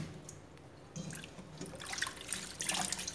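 Water splashes and trickles while ground vegetarian fish paste is rinsed by hand, with irregular sloshing and dripping that grows busier toward the end, close and moderately loud.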